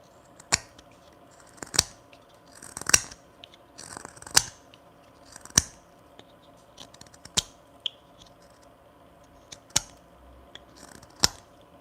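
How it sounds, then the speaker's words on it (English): A knife carving olive wood by hand, sharp crisp scraping cuts that come in separate strokes about every second or so, close and clear over a quiet background hum, with no talking. "This knife is noisy."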